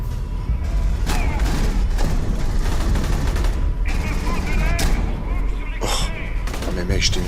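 Dense game gunfire from Alien: Colonial Marines, with rapid bursts and booms running continuously and loudly through the whole stretch, mixed with action effects and a voice talking over it.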